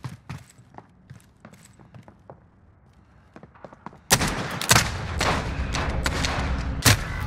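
Gunfire in a 2v2 video game gunfight, sparse sharp shots and thumps at first, then a sudden loud burst of rapid repeated firing with a dense continuous background.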